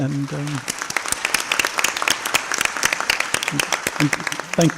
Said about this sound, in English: So if we could give everybody a round of applause to our presenters